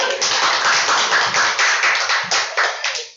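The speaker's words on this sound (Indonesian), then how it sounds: "Ya, beri tepuk tangan untuk Ara" A small group of students in a mathematics micro-teaching class claps for a classmate, giving close, loud, rhythmic applause with quick regular beats for about three seconds before it fades.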